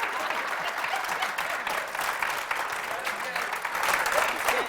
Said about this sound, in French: applaudissements pour recevoir M. Agozo!